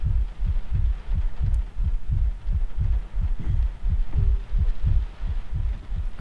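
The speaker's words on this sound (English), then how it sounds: "There's this heartbeat again." A heartbeat in the horror video game Layers of Fear: steady, deep double thumps repeating at a regular pace over a low ambient hum, with no talking.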